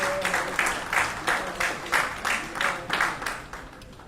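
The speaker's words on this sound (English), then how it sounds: "Let help me with a round of applause." An audience at a national Muslim conference claps in a steady, fairly close round of applause, rhythmic and even for a few seconds before easing off.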